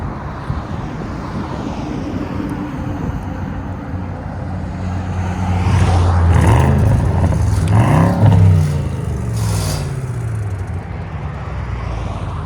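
A warmed-up modified German V8 car engine revs loudly and close by, swelling into a few sharp, rising bursts in the middle before settling back to a throaty idle.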